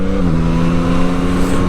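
A 2021 Yamaha MT-09 motorcycle accelerates hard to overtake, its engine tone rising steadily, loud and close, with wind rush and no voices.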